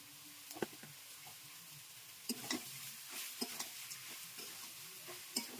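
Village-style desi chicken with salt and turmeric fries in a pan while a spoon stirs it, giving a soft, low sizzle broken by scattered scraping clicks and taps.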